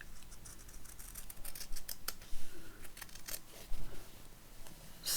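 Scissors trim fabric-covered grunge paper for a shabby chic accordion journal, giving a quick run of close, crisp snips and rustles with no talk.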